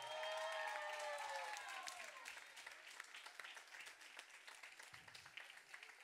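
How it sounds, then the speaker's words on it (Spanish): An audience of parents and families at an event in Torrelavega breaks into dense, sustained applause with some cheering voices at first, the clapping continuing as a steady wash at a modest distance. "Dense un aplauso."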